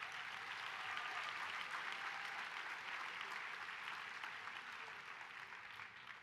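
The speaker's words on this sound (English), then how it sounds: "Can we please give another round of applause for Judge Krokop?" Audience applause for Judge Krokop at the 26th Annual AAFC at The Ohio State University: a steady, dense round of clapping from a large crowd that holds strong throughout and eases off slightly near the end.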